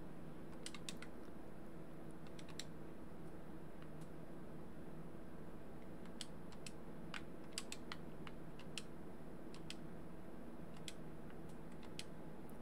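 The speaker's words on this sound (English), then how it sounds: "So I'm running, you can hear me clicking the controller" Game controller buttons click during play of a Dungeons and Dragons Online video game: sharp, scattered clicks in uneven bursts over a constant low fan-like hum.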